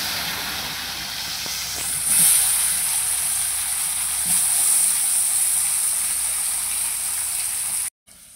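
Thinly sliced potatoes fry in hot oil with a steady, close sizzling hiss that swells slightly partway through and then cuts off near the end.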